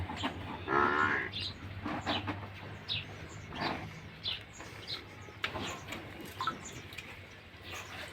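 Water buffaloes low in a stable in Gujarat, with one drawn-out moo early on over a steady low hum, followed by scattered short calls and bird chirps in the background.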